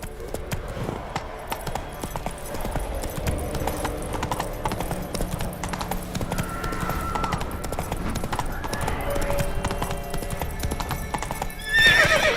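Roach, the horse in The Witcher 3, clip-clops steadily at a trot and neighs over a continuous game soundscape with background music, the hoofbeats running throughout and a louder burst near the end.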